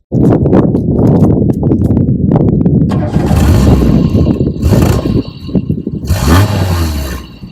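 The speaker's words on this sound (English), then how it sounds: "show you what it sounds like from the exhaust" A Renault Super Cinq (Renault 5) engine runs close by with a rough, rumbling exhaust note, rising briefly in a rev near the end.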